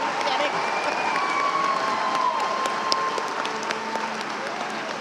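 Commencement audience applauding baccalaureate graduates: a continuous round of clapping with scattered cheers and a rising whistle-like tone, while a voice speaks faintly over it.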